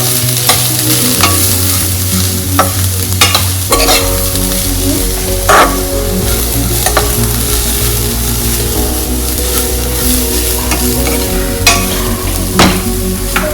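Misal masala and salt being stirred in a hot pan, a steady sizzle with repeated scraping strokes of a spoon against the pan, close and fairly loud, no voices.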